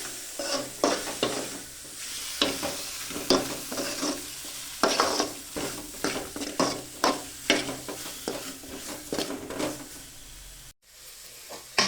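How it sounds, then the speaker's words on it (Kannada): Curry leaves frying in a pan while being stirred, with a continuous sizzle broken by rhythmic scraping strokes of a utensil, close and steady throughout, and a brief cut near the end. "ಕರಿಬೇವು ನೋಡಿ ಹುರ್ತಾ ಇದ್ದೀನಿ"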